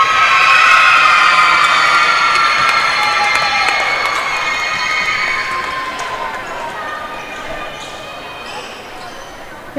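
A sizeable crowd in a gym at a Tuesday afternoon middle school volleyball match cheers and chatters steadily, a loud broad roar with shouts and voices mixed in that slowly eases over the stretch.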